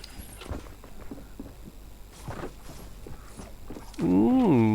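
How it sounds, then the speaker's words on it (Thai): Player footsteps in the Fortnite video game, soft repeated steps at a low level under game sounds, followed by a loud tonal burst near the end. "ได้ยินเสียงเท้าคนนะ"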